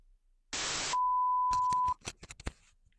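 A single long steady electronic beep lasting about a second from a microphone whose battery ran out, preceded by a short burst of static and followed by a few quick clicks.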